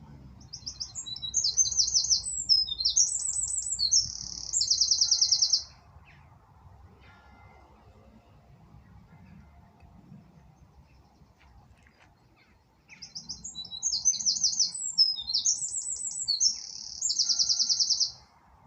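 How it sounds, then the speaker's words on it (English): Birds chirping in a sunny valley on a hot summer day: a bright, rapid trilling song sounds twice with a long quiet gap between, over faint low outdoor background noise. "the sound of the birds and the valley in the background"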